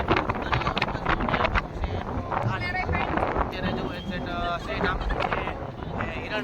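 Wind buffets the microphone in steady gusts by a swollen river near the rough sea at Somnath, with people talking over the rushing noise throughout.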